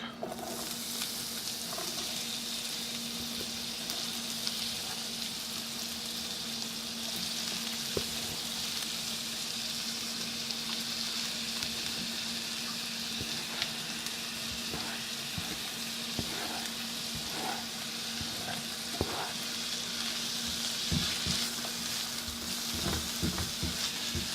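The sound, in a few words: onions and garlic frying in cast iron pan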